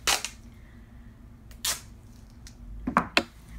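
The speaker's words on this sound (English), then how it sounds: "what you're hearing is I'm opening some duct tape here" Duct tape is ripped off the roll in a few sharp, close tearing bursts with short pauses between, set against a quiet room.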